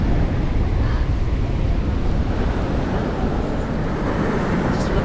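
Cold wind buffets the microphone on a Welsh beach with big waves: a steady, loud, low roaring rush that runs unbroken throughout, with the surf blended into it.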